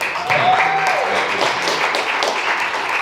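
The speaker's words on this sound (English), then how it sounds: "I did it for the claps in the side room of a bowling alley" Audience applause at a small comedy show in the side room of a bowling alley, a brief wash of clapping that rises and lingers, with a voice speaking over it.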